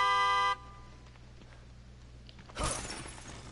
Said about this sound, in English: Did I just really honk the horn?